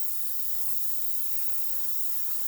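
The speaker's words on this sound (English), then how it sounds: "we want to try and avoid directly spraying under the mask edges" Airbrush or spray paint hissing steadily over a model paint mask stencil, a continuous close, even spray with no pauses.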